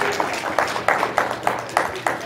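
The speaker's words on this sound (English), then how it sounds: "Let's give them a round of applause." A small lunch-talk audience applauds three singers called up front, a modest round of sparse, evenly spaced claps, fairly close and clear, lasting a couple of seconds.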